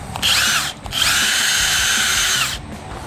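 An SP 18V 1/2-inch drive mid-torque cordless impact wrench runs in two loud, close bursts of high-pitched whirring with a short dip between them, then stops.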